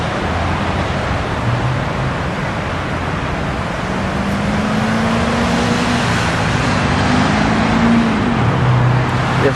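Steady city road traffic roars beside a park path near a river, a continuous loud wash of cars and engines with a vehicle's drone rising and falling through the middle.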